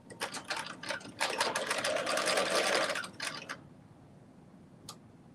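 A sewing machine runs a basting stitch through dress fabric in short stuttering bursts, then a sustained run, fairly close and moderately loud, before falling quiet with a faint click at the end.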